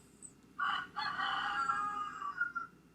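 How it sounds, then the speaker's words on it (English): A single rooster crows once in a long, drawn-out call, moderately distant, with quiet background and no talking. "I am really learning the crows of the rooster and learning to tell time."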